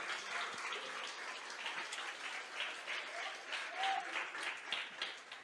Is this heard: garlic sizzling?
no